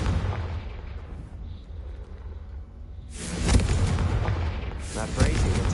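The Confringo fire spell in the video game Hogwarts Legacy bursts in two loud, crackling blasts a second or so apart, after a stretch of low rumble, with a voice speaking in the scene.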